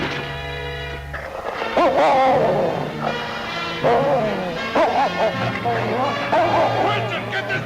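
A dog in the snowy Yukon barks and yips in excited, uneven bursts over a musical score, with voices around it.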